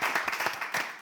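An indoor group claps briefly, the claps uneven and overlapping, moderately loud and close, for about a second.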